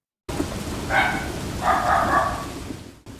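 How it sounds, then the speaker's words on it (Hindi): Dogs barking on a stormy, rain-soaked night, two close bursts of barking over a steady hiss of heavy rain, then a sudden cut-off. "आसपास कुत्ते भौंकने लगते हैं।"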